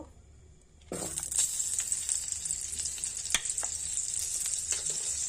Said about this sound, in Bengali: এবার কড়া গরম করে কড়াই একটু বাটার দেব